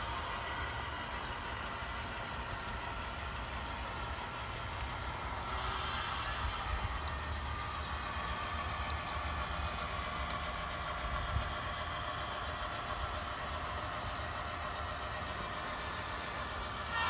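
A model railroad locomotive accelerating with its throttle notched up while working a chemical plant spur gives off a steady, low mechanical rumble with a faint high whine, continuous and fairly quiet, with no voices.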